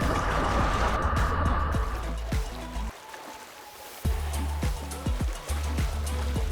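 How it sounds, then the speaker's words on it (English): Swim spa water jets churn steadily, a continuous rushing, splashing wash of water that stays loud throughout, with brief sloshing surges as someone jogs against the current. "now we're going to turn the jets on in the swim spa"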